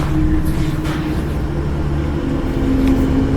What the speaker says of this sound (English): Well, I can't hear over this fucking truck.